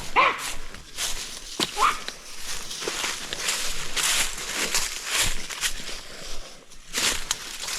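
A tracking dog on a hunt whines and yips in short excited bursts, mixed with footsteps moving through brush and someone talking.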